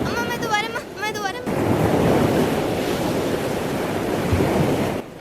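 Crashing tsunami waves in a staged drama, a loud, sustained roar of surging water and wind-like noise that swells after a short burst of excited voices at the start and continues steadily before dropping off at the end.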